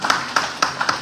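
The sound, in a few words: audience clapping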